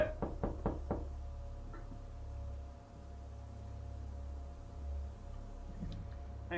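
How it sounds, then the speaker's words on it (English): Four quick knocks sound sharply at the start, followed by a long stretch of quiet room noise and then one faint soft tap near the end. "Y'all hear a knock too?"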